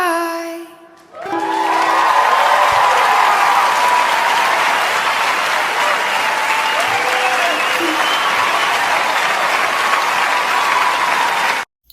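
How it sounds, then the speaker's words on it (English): A live concert crowd breaks into a standing ovation for a singer's performance: dense, sustained clapping and some cheering swell in after a brief musical ending and carry on loudly until an abrupt cut. "she got a standing ovation, so clearly it was very, very effective and moving for the crowd as well"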